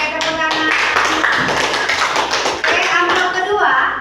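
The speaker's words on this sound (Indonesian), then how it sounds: "Oke, tepuk tangan." A class of students in a primary-school lesson clap together on cue, a dense spell of rapid hand claps with chatter and voices mixed underneath.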